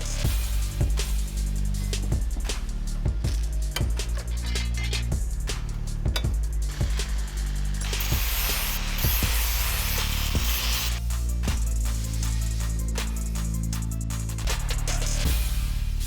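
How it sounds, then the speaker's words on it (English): Metal fabrication in a shop: rough metal edges are cleaned up and holes punched, giving repeated sharp mechanical bangs and thuds over a constant loud machine hum, with a stretch of harsh grinding hiss in the middle. "now I'm just cleaning up these rough edges, punch these holes out"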